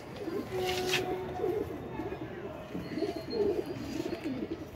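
Amritsari pigeons coo softly in repeated low, throaty calls in a pigeon loft, blending with steady background bird noise and faint movement.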